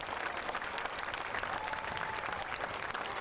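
Spectators along a homecoming parade route clap steadily for soldiers back from Afghanistan, the applause broad, continuous and fairly close, with a faint whistle-like tone rising briefly in the middle.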